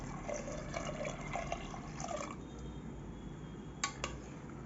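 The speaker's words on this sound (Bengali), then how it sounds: "এইগুলো দিয়ে আমি এবার দিয়ে দেব প্রয়োজন মতো জল" Water is poured into a pot of mixed five-lentil dal seasoned with turmeric and salt: a steady splashing, gurgling stream for about two seconds, then quieter trickling and a couple of faint clinks.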